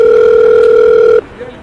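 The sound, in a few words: telephone call tone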